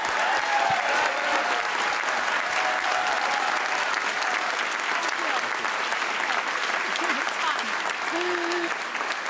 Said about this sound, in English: Let's all give a loud round of applause to our moderator, Mary Ann Ahern.